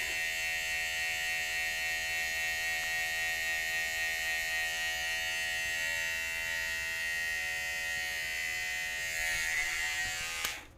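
An electric hair clipper buzzes steadily while trimming hair for a skin fade, a close, constant high whine that holds level before cutting off abruptly at the end.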